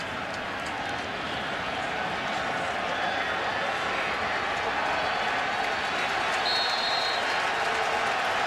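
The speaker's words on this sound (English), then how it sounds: "Crowd slowly starting to create a little noise" Steady broadband roar of a college football stadium crowd at Louisville during the third quarter of a 2013 UCF at Louisville game, a continuous wash of distant cheering and murmur that holds level throughout.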